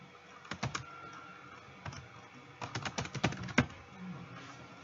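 Computer keyboard typing, close and fairly quiet, in two short clusters of quick keystrokes as a name goes in, with a pause between them.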